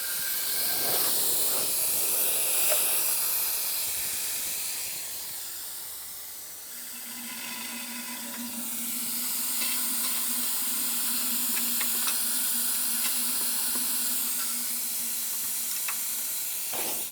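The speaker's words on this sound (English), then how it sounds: "To remove the fluid, I'm going to be using a fluid extractor" A fluid extractor drawing power steering fluid from the reservoir of a GMC Sierra 2500 HD, a steady close hiss of suction that drops to a lower hum partway through, with no speech.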